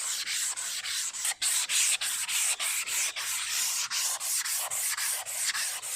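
Steady, rhythmic hand sanding of a Toyota TA22 Celica body panel, a coarse scratchy rubbing in repeated back-and-forth strokes, close and loud, with no voices.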